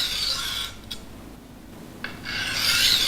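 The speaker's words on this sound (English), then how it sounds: "Sharpen the edge on this stone until it is sharp." A cutlery knife edge is drawn along a coarse Norton Crystalline silicon carbide stone in two long, close gritty strokes, with a quieter pause between them.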